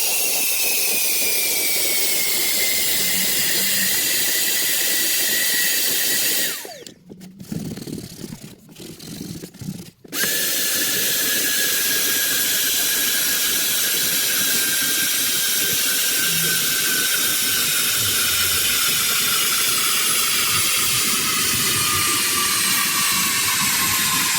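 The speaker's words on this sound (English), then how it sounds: "I go over it several times with the extractor to make sure I get all the moisture out of the seat" Upholstery extractor drawing moisture out of a car seat, a loud continuous high whine with airy rushing that drops away briefly mid-way as the tool lifts, then resumes steadily.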